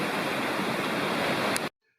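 A small waterfall cascades into a pool beside a wilderness campsite in North Carolina, giving a steady, close, full rushing wash of water that runs without a break and then cuts off abruptly near the end.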